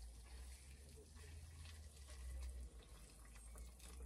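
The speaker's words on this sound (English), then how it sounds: "I've got too much water in." Water pouring into a kettle or pan for a cup of tea at a wild camp in a VW Caddy van, a steady close splashing fill with a low rumble underneath.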